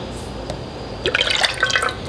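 Coconut milk poured into a deep pot while making coquito, a short liquid splashing and dribbling run that starts about halfway through and comes up close and fairly clear after a quieter stretch.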